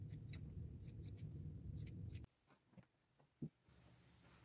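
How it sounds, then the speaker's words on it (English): Scissors snipping through scrap flannel fabric to cut patches for a shirt, a few soft, close crisp cuts after a stretch of background noise, with no talking. "Now I'm going back to my scrap flannel. to cut out some patches to sew onto the shirt."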